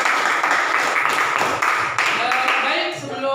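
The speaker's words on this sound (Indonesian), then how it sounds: "Terima kasih tepuk tangan untuk kita semua" Pupils in a school classroom give a round of applause, a steady spread of many claps throughout, with a voice starting to speak as it ends.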